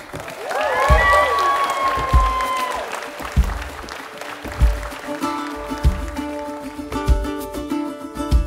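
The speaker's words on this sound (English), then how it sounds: "And you may greet them with applause." Wedding guests applaud and cheer the newly declared husband and wife, the clapping fairly loud and close at first, then breaking into scattered claps with music and background voices mixed in.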